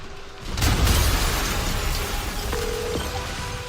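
A boom goes off in Marvel's Spider-Man Remastered, a single dull burst with a rumbling low tail that fades over a few seconds, heard alone without talk.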